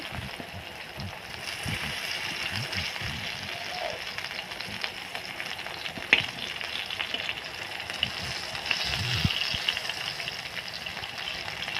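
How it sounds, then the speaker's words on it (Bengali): Pointed gourd (potol) pieces fry in a pan with a steady, even sizzle, and a few clinks and scrapes of turning them break through at moderate loudness. "এই যে পটলগুলো আমি তাওতে দিয়ে দিলাম এভাবে ভেজে নেব"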